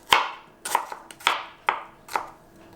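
A knife chops onion into small pieces on a cutting board, giving six sharp, crisp knocks in an uneven rhythm, close up, with no talk.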